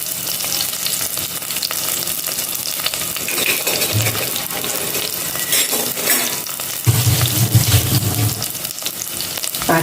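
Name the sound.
onions and curry leaves frying in a pan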